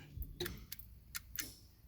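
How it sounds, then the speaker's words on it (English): Fog light switch on a 1999-2000 Honda Civic being pressed, a handful of small, sharp, quiet clicks in an irregular pattern, close up in a quiet car interior. "You hear that clicking sound?"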